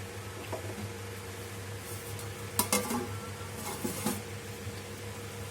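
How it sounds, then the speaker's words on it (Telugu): A metal lid is set onto a pot of chicken biryani with a couple of clanking knocks and scrapes over a low steady stove hum. "ఇప్పుడు మూత పెట్టేద్దాం"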